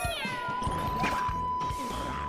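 A cat bell power-up in Super Mario 3D World gives a bright chime and a cartoon cat meow, loud and close against busy game music and effects, with no talking.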